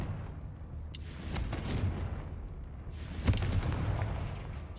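A Confringo fire spell blasts in Hogwarts Legacy with a muffled rumbling boom, followed a couple of seconds later by a sharper crack and a rolling explosion tail, with nobody speaking.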